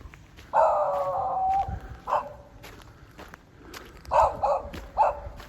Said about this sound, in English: Sounds like a hound dog, a beagle maybe.